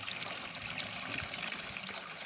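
Water from a forest spring trickling into a bottle, a steady bright babbling flow with small gurgles, close and continuous, with no talking.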